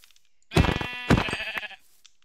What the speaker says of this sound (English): we got some more sheep over here